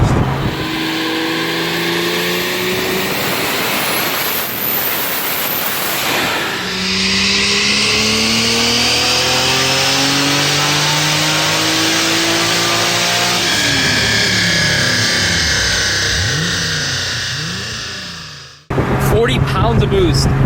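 A sleeper Lexus SC430 with a stock-block 2JZ engine running close to 40 psi of boost revs loud and close, its engine note rising and falling continuously before it cuts off abruptly near the end and comes back.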